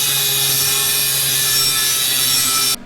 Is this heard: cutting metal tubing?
yes